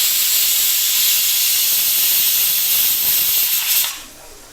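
Kombdi vade made from bhajani flour deep-fry in hot oil and are turned on both sides, giving a loud, steady, close hiss of bubbling oil that fades away near the end, with no talking.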